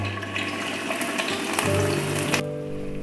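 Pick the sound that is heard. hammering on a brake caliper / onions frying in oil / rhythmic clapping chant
onions frying in oil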